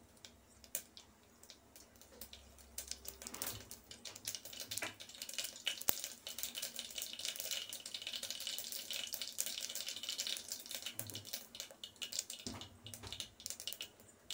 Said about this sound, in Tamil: கடுகும் பொரியட்டும்.